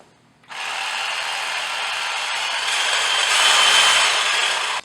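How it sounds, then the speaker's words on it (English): A MagnaFlow exhaust muffler being cut off a raised car with a power saw, a steady loud grinding-cutting whine that starts abruptly and runs unbroken for several seconds, swelling slightly near the end before stopping. "we're going to go ahead and cut this muffler off"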